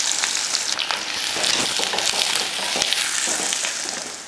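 Small shallots, garlic cloves and green chillies fry in hot oil in a pan, a close, continuous sizzle with crackling pops and occasional stirring scrapes, with no talking.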